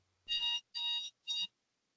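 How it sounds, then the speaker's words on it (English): An alarm buzzer sounds three loud, close, even electronic blasts, each about a quarter-second long with short gaps between them, then stops, leaving silence with no talking. "Yes, that was an alarm."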